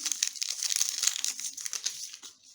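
A small paper packet of vanilla sugar crinkles and rustles close up as the sugar is shaken out, a quick, dry crackling sound.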